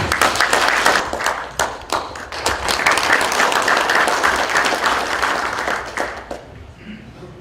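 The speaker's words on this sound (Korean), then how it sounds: "박수 부탁드리겠습니다" An audience at a Korean community New Year gathering and workshop in Los Angeles claps for an arriving guest: loud, dense applause with sharp individual claps, sustained for several seconds before fading out.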